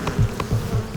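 Worker bees buzzing as they fly between hive and flowers, a steady droning hum with repeated low swells as individual insects pass close, no voices.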